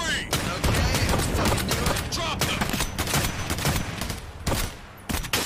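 Rapid gunfire from a firefight in a fan-made Escape from Tarkov movie. Dense bursts and automatic volleys run loud and continuous with sharp cracks throughout, and shouted voices mix into the chaos.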